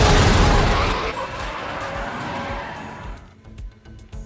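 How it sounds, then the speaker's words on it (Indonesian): Film scene of a car hitting a security car stopped in the middle of the road, which then explodes: a loud roaring blast with rumbling debris that fades over a few seconds, ending in quieter scattered rattles. "karena mobil security itu ada di tengah jalan, akhirnya tertabrak dan meledak sob"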